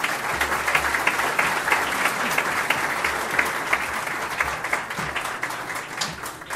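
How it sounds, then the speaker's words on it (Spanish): An audience at a forum on political persecution in Ecuador gives sustained, even applause, many hands clapping steadily at moderate volume with a low hum underneath, tapering slightly at the end. "se merecen muchos aplausos más"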